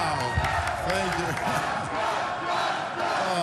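A large crowd at an Ontario election night event cheers and shouts for Doug Ford as he takes the stage, a loud, dense, sustained roar with chants and claps throughout.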